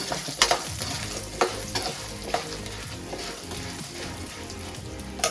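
Almonds fry in a pan for a homemade aval mixture, a constant crackling sizzle broken by sharp clatters and scrapes as they are stirred, close and with no speech.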